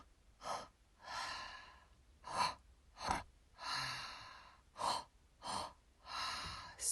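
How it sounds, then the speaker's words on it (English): Deep, forceful breaths during an anger-releasing breathwork exercise come close and clear. About ten strong inhales and exhales follow in an uneven rhythm, some sharp like gasps and others drawn out like sighs. "you just keep breathing"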